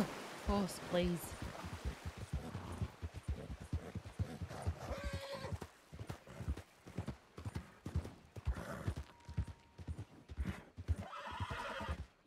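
Horse hooves clip-clopping and a horse whinnying in the video game Red Dead Redemption 2, played on a WildRP roleplay server, with a steady run of hoofbeats and a short neigh over game noise while a person talks.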